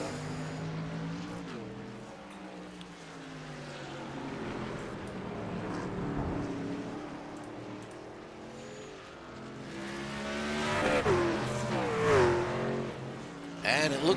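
Short Track Superleague race trucks driving past on a track near the pit lane exit, engines droning steadily then swelling louder as a truck roars by up close, with commentators talking throughout.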